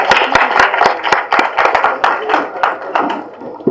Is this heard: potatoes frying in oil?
no